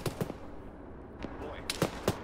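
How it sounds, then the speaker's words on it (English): Scattered gunshots in an Arma combat mission, a few sharp single cracks at uneven intervals, some near and some more distant, over a steady low background rumble. "there's a guy in civilian clothing shooting us southwest"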